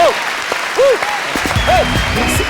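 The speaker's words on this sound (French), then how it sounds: "On l'applaudit tout de suite, s'il vous plaît." Studio audience applauding a performer on a French pop television show, with a voice calling out over the clapping in short sung or drawn-out tones.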